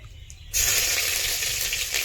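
Chopped garlic sizzling in hot oil in a pan for a village-style Bengali chicken curry, a quiet hiss that bursts into loud, steady frying as the garlic goes in and continues without pause.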